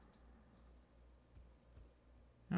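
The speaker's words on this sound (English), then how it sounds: "Oh, there's the break timer." A break timer alarm beeps in rapid bursts of four high electronic tones, repeating twice in a clear, close pattern before a third burst begins, with no one talking.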